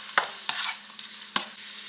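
Onions frying in oil while being stirred, soft continuous sizzle broken by three brief scraping clicks of a utensil, close and quiet with no voices.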